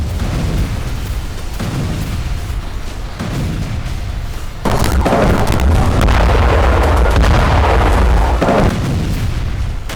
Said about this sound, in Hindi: इजरायली सेना गाजा को मुट्ठी में करने के लिए हर दिन अनगिनत बम बरसा रही है।